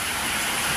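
Heavy rain pours at a fishing spot, a dense, steady broadband hiss with no gaps, loud and close, with no voices over it.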